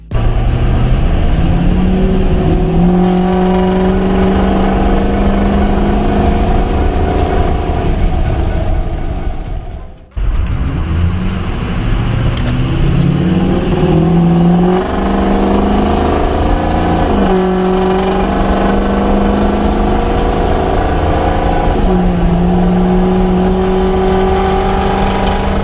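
Truck engine and exhaust drone heard from inside the cab at about 40 mph, a steady loud harmonic rumble that rises and falls through gear changes, with a brief cut near the middle.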